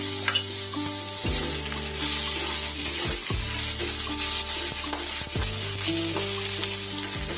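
Chopped tomato fries in a hot pan, giving a steady loud sizzle with occasional stirring scrapes and no talk over it.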